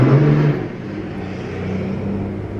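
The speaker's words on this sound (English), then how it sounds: "Noisy traffic." Noisy road traffic rumbles steadily nearby, with a car's engine droning and whooshing past in a continuous low wash of vehicle noise, no voices.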